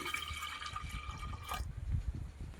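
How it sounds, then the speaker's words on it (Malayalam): Water splashes and gurgles steadily for over a second as it is poured into a pressure cooker of dal, then stops, leaving low clattering and handling noises close by. "വേവാൻ വെള്ളം ഒഴിച്ചു കൊടുക്കാം"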